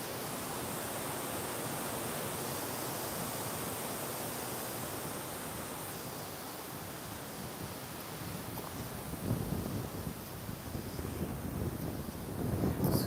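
Gusting wind roars steadily through old beech woods, a dense close rush buffeting the microphone, rising and growing rougher toward the end.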